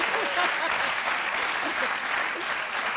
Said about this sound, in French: On applaudit très fort, Messi Ingrid.